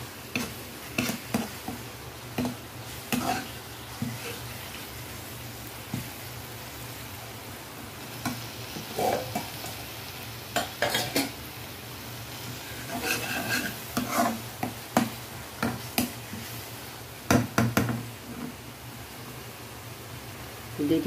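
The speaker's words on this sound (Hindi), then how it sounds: "और अब इसको अच्छे से भून लेते हैं जब तक ये ऑयल नहीं छोड़ देता" Turmeric and coriander masala frying in oil for Punjabi-style soya chunk pulao, with bursts of spatula scraping and clinks against the pan over a faint sizzle, close by, with quiet pauses between strokes.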